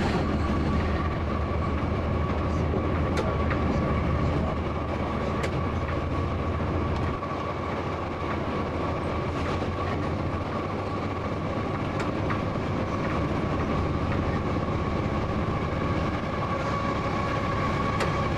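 A freight train rumbles steadily from inside the locomotive cab, with a constant low engine drone and faint rail clatter continuing throughout, with no talking.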